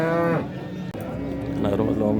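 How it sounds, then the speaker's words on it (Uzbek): Large cows at the Yangiqo'rg'on livestock market in Buvayda district moo loudly and close, with one long low call at the start and another at the end, separated by a brief thump. "Gigant sigirlar."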